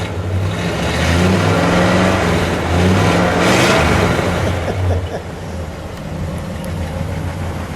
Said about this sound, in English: Give me one more rev.